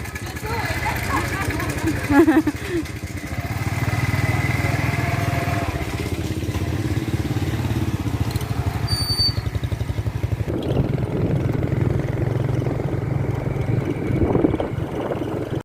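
A motorcycle rides along toward a temple, its engine giving a steady close putter and drone throughout, with a short change in tone partway through, under ongoing talk.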